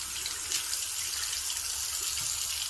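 Hot water gushes steadily from a tap fed by a newly installed Thermomate ES250 mini-tank electric water heater, a loud, continuous splashing stream with no pauses.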